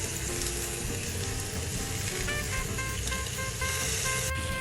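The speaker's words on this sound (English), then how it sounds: "I'm turning the burger buns and let it cook on the other side too." Burger buns fry under a cover in a pan, giving a steady, close sizzle that runs without break, with faint tonal hums in the background and no one talking.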